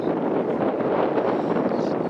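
Steady wind rushes across the microphone, a continuous broadband whoosh with slight gusting and no talking.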